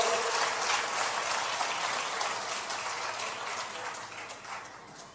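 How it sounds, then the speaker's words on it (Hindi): An audience applauds together at a spiritual discourse, a dense wash of clapping that starts full and gradually thins and fades over several seconds. "अब देखो बड़ी सबने तालियां बजाई"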